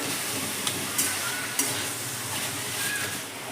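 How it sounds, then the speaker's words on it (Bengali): Steady sizzling from a hot wok over a high flame with a few soft scrapes and clinks as a sweet chhena and coconut mixture is stirred, no talking. "এবার এটাকে আস্তে আস্তে আমি পাক দিয়ে নেব"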